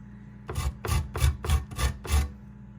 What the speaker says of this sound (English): small holes of your grater to grate nutmeg